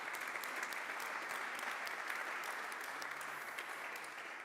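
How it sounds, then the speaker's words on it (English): Audience applause for the students of Accademia Chigiana at a live team presentation evening. Steady clapping is heard throughout, fairly distant and soft, and it fades slightly at the end. "Please an applause once again."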